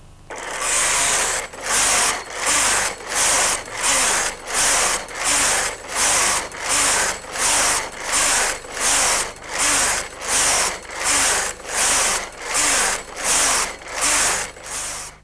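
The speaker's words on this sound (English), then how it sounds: "the machine's ready to begin knitting on row 1 of our stitch pattern" A Brother KH950i knitting machine carriage runs back and forth across the needle bed, a loud, close, rhythmic swishing and clattering that repeats in even strokes about once per second.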